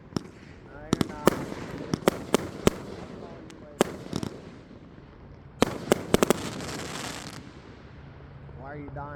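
A 25-shot Great America consumer firework cake fires outdoors at a family fireworks show, a loud rapid string of sharp bursts in irregular clusters with crackling tails, followed by a quieter stretch and then more volleys, with voices talking in the background.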